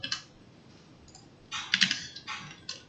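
Brief bursts of close, quick clicking on a computer keyboard as code is typed, with short pauses between runs of keystrokes.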